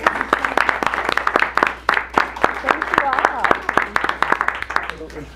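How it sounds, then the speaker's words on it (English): Scattered, fairly sparse applause from a school board meeting audience, individual claps distinct and rhythmic, with voices talking over them. "We'll give them a round of applause."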